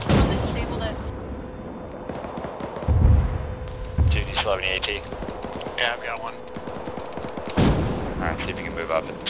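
Heavy vehicle-mounted weapon fire in a military shooter game, bursts of booming shots and rapid automatic rounds repeating across the scene, loud and close, with radio chatter and voices talking over and between the volleys.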